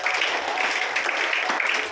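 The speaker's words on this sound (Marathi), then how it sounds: "प्रथमतः आपण त्यांचे टाळ्या वाजवून या ठिकाणी स्वागत करूया" An audience at a school for deaf and mute children in Majalgaon, gathered for a birthday food-donation event, claps steadily in a dense, even round of applause to welcome guests.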